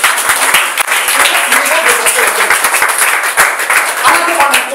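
Church congregation applauding in a dense, steady wash of many hands, loud and close, sustained throughout with scattered sharper claps and some voices mixed in.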